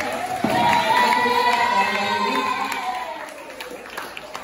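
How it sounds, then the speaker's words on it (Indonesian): An audience claps and cheers for two schoolchildren guests at a podcast event, a sustained burst of applause with excited voices that gradually fades. "Tepuk tangan dong buat"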